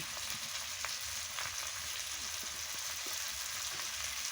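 Chopped tomato with chili and turmeric powder frying in a pan, a soft continuous sizzle with faint scattered crackles, fairly quiet and steady, no voices.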